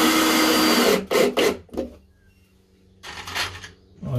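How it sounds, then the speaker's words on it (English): A power screwdriver drives screws into timber boxing around pipework in a cramped space, a loud whirring burst followed by two short spurts, then a pause and another run. "Just put a couple more screws in"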